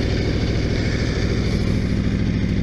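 A 2018 Aprilia RSV4 RF sport motorcycle engine idles loudly and close up, a steady throbbing rumble with no change in pitch.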